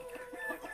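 Rooster clucking near hens on a farm, a short run of soft, close, repeated low clucks with no talk.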